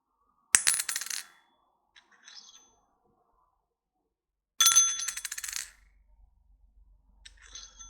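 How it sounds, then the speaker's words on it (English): An English 10p coin is dropped twice onto a hard surface, each drop a bright metallic ring with quick bounces that fades out, close and clear in an otherwise quiet room. "this is an English 10p. See if you can hear that."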